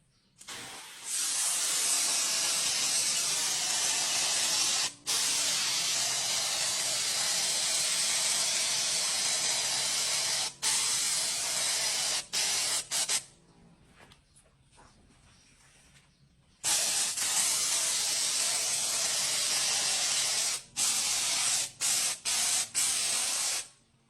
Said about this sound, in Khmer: បាញ់មកវាចេញតែពពុះសាប៊ូសុទ្ធទេ